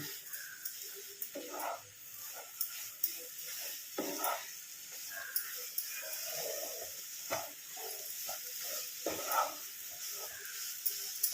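A kamarkat mixture of coconut is stirred briskly in a pan, with repeated scraping and clinking strokes over a faint sizzling hiss. The sound is moderately quiet and irregular.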